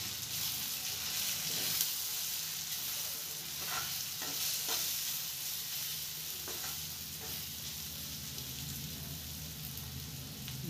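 Steady stirring and scraping in a pan of dried shrimp (sukat javla) masala with red chili powder, garam masala and turmeric, a continuous sizzle with soft spoon scrapes throughout, close and moderately loud, no talking.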